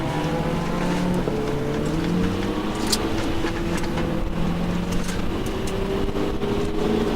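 A Lamborghini Murcielago LP640 accelerates at full throttle on the Las Vegas Speedway, its engine note climbing steadily in pitch as a loud, continuous roar that fills the whole stretch.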